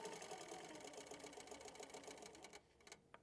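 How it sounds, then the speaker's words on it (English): Handi Quilter longarm quilting machine stitching along a ruler, a fast steady mechanical whir and rapid needle chatter running continuously, then easing off near the end, quiet and close with no talk. "I'm going to put pressure right there so that this ruler does not shift, and I'm going to stitch."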